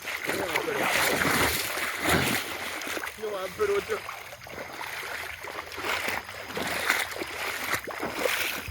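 Footsteps splash steadily through a shallow water stream in rural Jamaica, a continuous close wash of churning water with irregular louder sloshes, while muffled voices briefly come through the noise.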